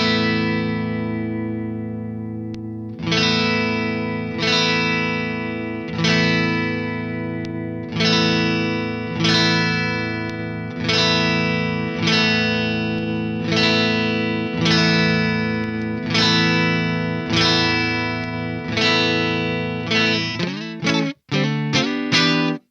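A distorted metal guitar runs through the Bogren Digital MLC Sub Zero amp sim, with heavy chords struck in a steady repeating pattern about every second and a half, each ringing out, before a quick flurry of stabs at the end. No voices are heard.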